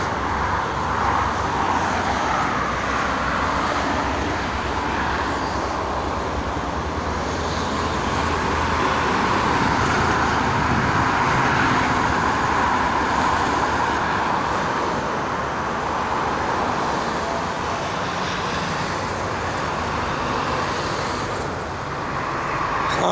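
Steady roar of cars, private vehicles and goods trucks on the Jakarta–Cikampek toll road in the morning, a continuous dense wash of tyre and engine noise with no break, heard from close by.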